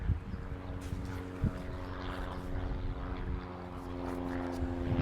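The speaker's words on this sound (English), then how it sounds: "You're gonna have some plane traffic here and there." A propeller plane passing near Gillespie Airfield in a San Diego neighborhood, a steady droning engine hum building slightly, heard over road and driving noise from a car.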